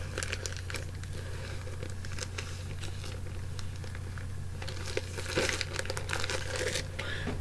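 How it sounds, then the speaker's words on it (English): Plastic packaging around a comic book haul is torn and crinkled open, continuous close crackling and rustling with scattered sharp rips, louder near the end, no voices. "Rip this open."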